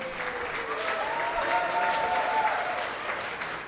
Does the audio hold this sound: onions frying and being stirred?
no